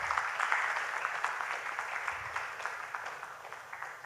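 Audience applause for a secondary school team at a spelling bee competition, a steady, moderately loud patter of many hands clapping for about four seconds, thinning slightly toward the end.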